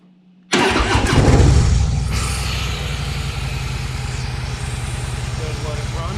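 A Harley Davidson Fat Boy motorcycle starts after a short quiet moment, cranking into a loud rumble that settles into a steady, close, lumpy idle that keeps running to the end.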